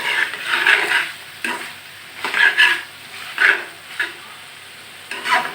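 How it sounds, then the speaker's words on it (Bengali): Sweet pumpkin stir-fried in a pan for a restaurant-style pumpkin bhaji, with repeated bursts of scraping, stirring and sizzling that rise and fall as the spatula moves. Close and moderately loud, with no talking. "মিষ্টি কুমড়োটাকে 2 মিনিট ভাজা ভাজা করে নিয়েছি"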